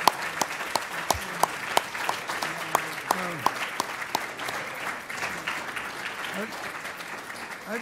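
An audience applauds at the end of a talk: sustained, fairly loud clapping from a crowd with some sharp individual claps standing out, and a voice speaking faintly underneath.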